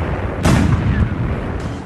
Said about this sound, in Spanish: este es identificado por el cañón principal, que entonces hace su tiro